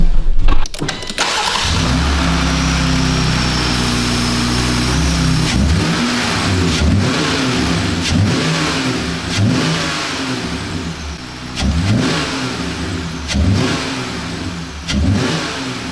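A Jeep Gladiator pickup engine with a new intake and exhaust revs repeatedly, rising and falling in loud bursts over a steady idle, close by with no talking.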